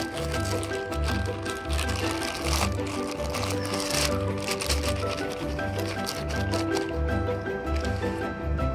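Wet kitchen waste tipped into a compact home biogas reactor makes repeated squelching, wet plopping and liquid gurgling sounds, close and steady, over a low rhythmic background hum.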